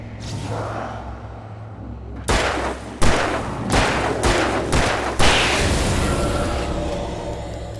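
Gunshots in Alan Wake Remastered crack out in a series of loud, close blasts, a handful of sharp reports spaced a second or so apart over a low rumbling game ambience, with no talking.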